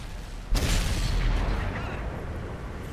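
A single heavy cannon shot from an enemy Object 430 tank in the World of Tanks console game, a loud sudden boom with a rolling, decaying rumble that fills the rest of the moment, with no talk.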